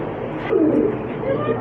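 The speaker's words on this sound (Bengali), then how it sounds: "এই যে দেখতেছেন আপনারা রেসার কবুতর, বিশ্বমানের সবচেয়ে জনপ্রিয় কবুতর রেসার" Racer pigeons coo, with one soft, throaty coo rising briefly mid-clip over a low background murmur of voices and general noise.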